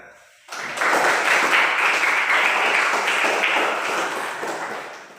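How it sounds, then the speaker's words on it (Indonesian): A classroom of students claps for a classmate, a dense, steady round of applause starting abruptly after a brief quiet moment and holding loud until the end. "mari kita tepuk tangan kepada teman kita sendiri"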